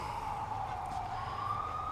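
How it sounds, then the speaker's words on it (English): A fire engine siren wails steadily in the distance behind a home garage during work on an Oldsmobile big-block 400, its tone sliding slowly as it passes, fairly faint against low background rumble. "what's a video without the fire department behind me not putting their sirens on?"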